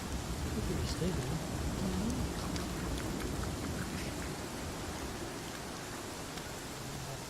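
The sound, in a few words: rain in the video game Pathfinder: Kingmaker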